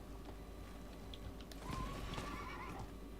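A horse whinnies in Diablo IV, a rising neigh over steady game ambience with soft hoof clops, the call swelling midway and trailing off.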